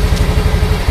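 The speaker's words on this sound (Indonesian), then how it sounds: "ini kondisi mesin hidup" A Yamaha Mio M3 scooter engine idles nearby with a loud, steady low putter of rapid regular pulses, heard briefly without voices.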